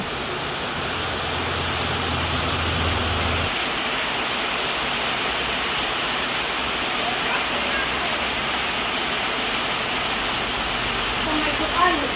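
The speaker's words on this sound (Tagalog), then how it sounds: "At malakas po ang ulan." Heavy rain pours in a steady dense hiss, unbroken for the whole stretch, with a low hum underneath at the start and no voices.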